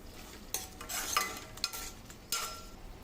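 Prawns frying in a pan with turmeric as they are stirred, a close sizzle interrupted by several scraping strokes of a spoon against the pan, and no one talking.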